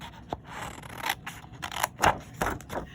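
Scissors fussy-cut paper for a Memorydex card craft project, making several close, crisp snips and slicing rubs at an uneven pace with no talking.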